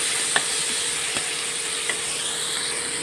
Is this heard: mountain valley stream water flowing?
no